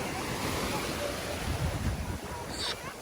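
A wave rolls in on a Zanzibar beach littered with washed-up seagrass, a close, steady wash of surf with wind buffeting the microphone and no talking.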